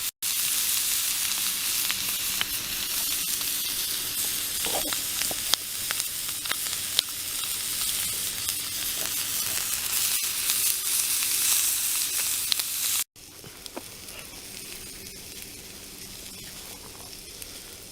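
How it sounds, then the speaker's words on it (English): Sausage sizzling in a pan over a Vargo wood stove, a loud, continuous, close hiss of frying with occasional pops, briefly interrupted and then resuming a little softer. "Love that sizzle."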